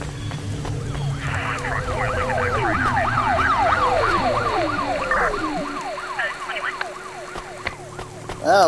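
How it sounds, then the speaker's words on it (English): Police sirens in the video game Cloudpunk, a wailing siren sweeping up and down repeatedly over a droning vehicle rumble, loud at first and then fading as it passes. "If you hear pretty much black and blue, or sirens, you know the boys in blue are right there."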